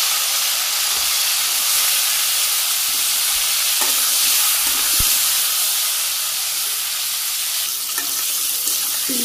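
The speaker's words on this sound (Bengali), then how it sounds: "তো তেলের মধ্যে আমি তেল দিয়ে দিছি, ফুলকপিগুলো ভাজি করে নিই অল্প অল্প করে।" Small batches of cauliflower florets fry in hot oil in a Bangladeshi home kitchen, making a loud, dense, continuous sizzle and hiss close by, with a few soft utensil knocks scattered through it.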